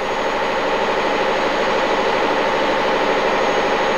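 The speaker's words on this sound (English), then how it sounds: "All engines are test run in a computer-controlled testing facility" A loud, steady Volvo truck engine drone runs without a break inside a sound-insulated test cell, a constant broadband roar with a low rumble underneath and no voices.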